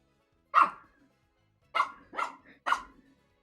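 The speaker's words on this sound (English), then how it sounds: "He just barks at everything." Close, sharp barks from a small indoor dog reacting to hallway noise: a single bark, a pause, then three quick barks in a row.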